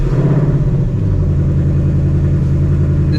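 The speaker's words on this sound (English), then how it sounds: "let's get a cold start" A 2016 Shelby GT350 V8 idles with a loud, deep, steady rumble right after a cold start, a thick low burble close by and alone, settling slightly in pitch after the first second.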